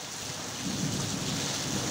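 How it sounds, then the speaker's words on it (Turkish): Heavy rain and hail pounding down during a severe storm in Elazığ, a dense, loud, continuous roar of impacts with low thunder rumble underneath, steady throughout. "Elazığ'a dün dolu yağdı, bugün de yağdı."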